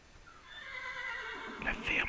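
A horse in a survival zombie game whinnies loudly, a rising then falling neigh lasting over a second, followed by a few sharp clip-clop hoof thuds near the end.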